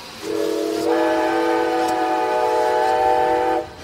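A train horn sounds as an effect in a Spanish-language podcast, one sustained chord-like blast rising in fullness partway through and holding steady for about three seconds before cutting off, loud and alone.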